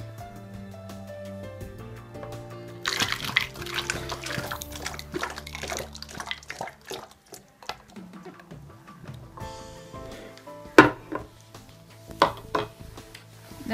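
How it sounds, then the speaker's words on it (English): Hot water poured into a bottle for an air-pressure demonstration gives a close, splashy stream with clinks and knocks, then quieter trickles and a few sharp taps toward the end. "in this bottle, we're going to put"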